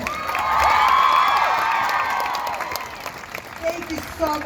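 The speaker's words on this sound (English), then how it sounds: "Give a round of applause to all men that support women." A crowd at a pro-choice rally in Boise, Idaho, bursts into applause and cheering with whoops. The noise swells, then fades into scattered claps and voices.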